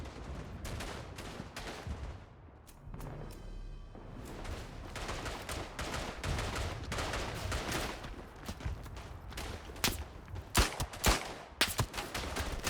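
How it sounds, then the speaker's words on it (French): Rifle and machine-gun fire in the First World War shooter Verdun crackles in irregular bursts, with distant volleys and several louder nearby shots toward the end. "je mets des balles aux gens, hein, mais j'arrive pas à les tuer"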